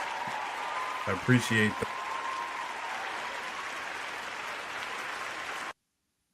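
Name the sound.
audience applause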